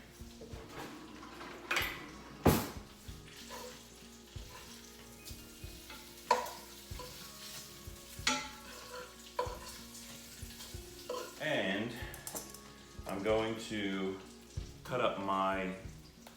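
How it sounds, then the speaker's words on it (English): Bacon fries in a pan for breakfast tacos, with a soft steady sizzle under occasional clicks and clatter of kitchen handling, followed near the end by a few louder bursts of frying or scraping. "I'm gonna check on my bacon again."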